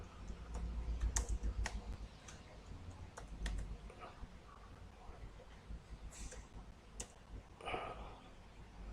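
Keys clatter on a computer keyboard as text is typed, in quick irregular bursts of clicks with short pauses, quiet and close, over a low background rumble.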